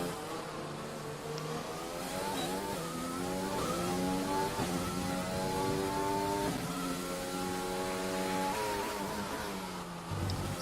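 An F1 car engine screams on an onboard time trial lap of Monaco in a racing game, its pitch rising and falling steadily through gear changes, loud and close throughout.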